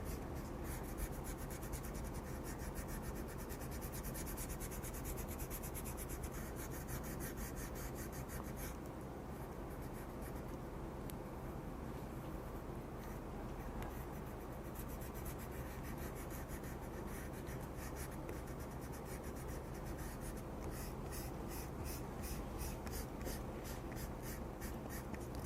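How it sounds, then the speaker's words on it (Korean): An eraser rubs out a pencil caricature sketch on paper after brush-pen inking, giving a long run of quiet scratchy back-and-forth strokes in rapid rhythmic bursts with brief pauses. "자, 지우개질을 하면은 지우개 가루가 많아요."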